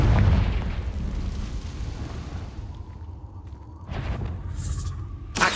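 Explosive Confringo blasting spell in the Hogwarts Legacy video game: a loud booming burst at the start decays into a rumbling tail, followed by several sharper bright cracks and pops near the end.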